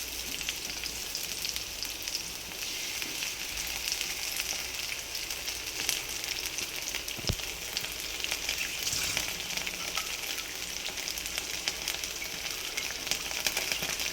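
Green chillies frying in a pan with lightly browned ingredients for grilled chicken with black pepper sauce, a constant close sizzle with a faint clink of a utensil, no talking.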